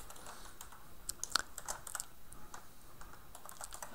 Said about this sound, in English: I will type the print command